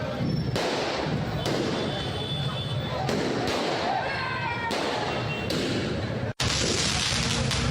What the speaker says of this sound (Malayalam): കോഴിക്കോട് നാദാപുരത്ത് പെരുന്നാൾ ആഘോഷത്തിനിടെ കാറിൽ പടക്കം പൊട്ടിച്ച സംഭവത്തിൽ 2 പേർക്കെതിരെ കേസ്.